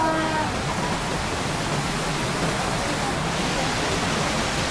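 Pinlac Falls, a waterfall in Infanta, Quezon, with a strong current, heard as a loud, steady broadband rush of falling water close by, filling the scene with no breaks.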